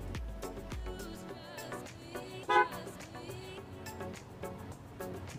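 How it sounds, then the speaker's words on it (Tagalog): Horn of a matte green Yamaha Sniper 150 motorcycle gives one loud, brief honk over steady riding and traffic noise outdoors. "Nagulat si ate sa busina natin."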